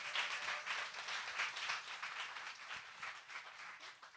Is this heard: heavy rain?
no